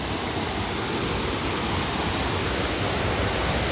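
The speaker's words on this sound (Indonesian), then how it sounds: "ini air terjun tinggi banget dan ini kayaknya dalam banget deh" A tall waterfall plunging into a deep pool roars as a steady, dense wash of rushing water, loud and unbroken.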